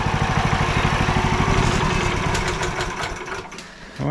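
A small engine runs at a fast, buzzing, steady rhythm, loud and close, then sputters and fades near the end as it begins to die.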